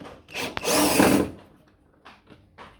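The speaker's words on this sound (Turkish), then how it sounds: "Vidalarını sökeceğim." A power drill unscrews screws from an air conditioner unit: one short, loud whirring burst lasting under a second, followed by quieter scattered handling clicks.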